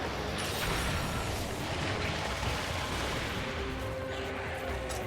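Light Bowgun firing slicing shot in the video game Monster Hunter during a Najarala hunt, a continuous rumbling barrage of booms and impacts, loud and dense throughout.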